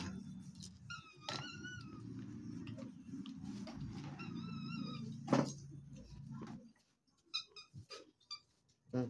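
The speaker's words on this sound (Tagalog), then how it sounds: "Sasalita yung pusa." A cat meows several times in short, rising calls over a low background hum, followed by a few quieter clicks and taps.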